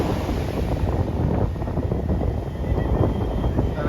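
Sea waves roll in at Marina Beach as a steady broadband roar of surf mixed with wind buffeting the microphone, continuous and fairly loud with no distinct breaks.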